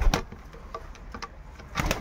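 Racing pigeon in a home loft in Silesia giving a couple of soft, brief coos close by, separated by quiet shuffling.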